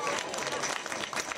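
An audience claps at a village stage event for a statue unveiling, with dense, steady applause over a short stretch and a hint of voices mixed in.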